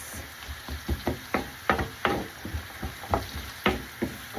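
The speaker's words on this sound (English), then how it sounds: "So I'm just going to caramelise these onions and carrots for about 10 minutes" Onions and carrots caramelise in a pan, with a gentle sizzle underlying a quick, irregular series of scraping and knocking strokes as the vegetables are stirred, close and fairly loud.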